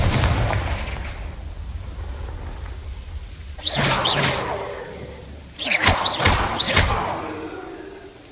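A Confringo blasting spell goes off in a game: two loud bursts of explosive impact, each with whooshing, rising streaks, separated by about two seconds over a steady rumbling background. No one speaks.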